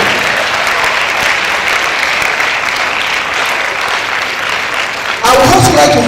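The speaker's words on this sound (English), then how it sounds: "you should give yourself a round of applause for being privileged children" Audience of schoolchildren at a school anniversary lecture breaks into sustained, even applause lasting several seconds, growing slightly louder near the end.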